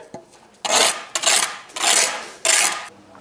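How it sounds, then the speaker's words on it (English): Brick trowel scraping excess mortar along a red brick wall: four rough, gritty rasping strokes in quick succession, close and fairly loud, with short gaps between them and no talking. "Ping that line, give it a scrape."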